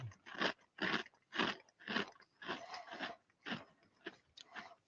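Glico Cheeza smoked double cheese and black pepper crackers being chewed close up, a steady run of loud, crisp crunches in regular bites with no talking.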